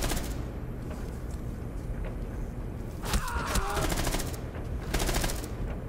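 Gunfire in Rainbow Six Siege gameplay, a close burst of rapid automatic shots landing in the middle of steady game noise, with players' voices in the background.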